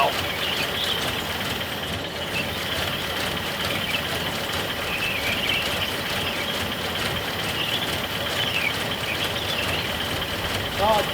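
A rescued Nissan 720 ST truck engine idles steadily just after its first start in years. Its even, continuous rumble holds for about eleven seconds with a faint hiss, and no voices.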